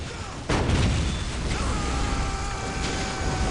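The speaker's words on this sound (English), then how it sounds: "All the explosions." Battle noise from a 4 vs 4 Dawn of War match between Imperial Guard, Space Marines and Eldar, with a sharp blast opening into a dense roar of explosions and gunfire that keeps rumbling, plus a few thinner bursts on top.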